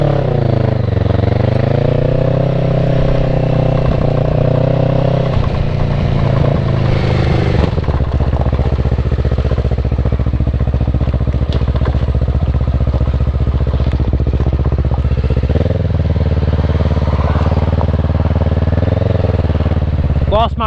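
Kawasaki Versys motorcycle engine running steadily after a restart following a crash, a loud continuous drone with shifting pitch heard close up from the rider's position, with wind and road noise throughout.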